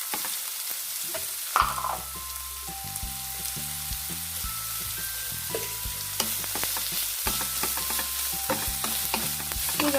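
Chopped onions frying in a pan, a steady sizzle with repeated stirring scrapes and clinks close up, with a faint tonal hum running underneath and no talking.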